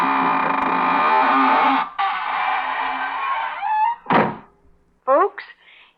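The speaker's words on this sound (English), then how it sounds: "now it's time to close the squeaking door" A squeaking door closes as a radio drama sound effect: a long, loud, steady creaking groan that breaks off, resumes, then ends with a thump, followed by short squeaks, heard alone and close.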